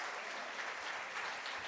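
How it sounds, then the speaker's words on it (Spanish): Church congregation applause during a worship service, a brief, steady and dense patter of many hands clapping at moderate distance with no speech over it. "Fuertes aplausos al Señor"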